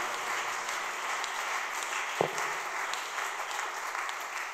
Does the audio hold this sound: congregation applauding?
yes